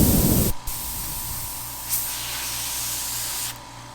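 An Iwata airbrush sprays with barely any air coming out: a short burst of harsh noise, then a faint, steady hiss with a low hum underneath, close by and without talk.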